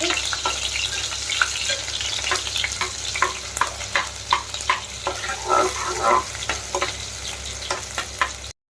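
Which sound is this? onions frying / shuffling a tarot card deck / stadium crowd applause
onions frying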